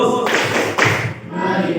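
A classroom of students performs the 'tepuk fokus' focus clap in an Indonesian class, a few broad thumps and claps in quick succession, near and fairly loud over room noise.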